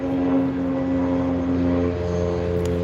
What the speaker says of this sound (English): That Bombardier Challenger 350.